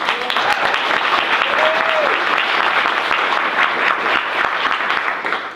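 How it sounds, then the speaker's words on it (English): Dense, loud applause from an audience at an art talk, a continuous wash of clapping held steady throughout with a brief faint voice or whistle inside it. "So let's give Lise a round of applause."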